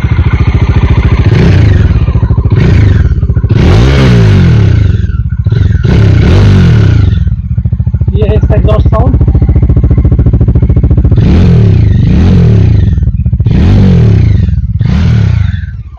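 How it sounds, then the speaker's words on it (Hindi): A Bajaj Dominar 400 motorcycle engine idles loudly up close, with repeated sharp throttle revs rising and falling in bursts. "मैं इसका एग्जॉस्ट साउंड सुना देता आपको"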